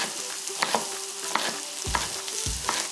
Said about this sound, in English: that chicken's starting to sizzle now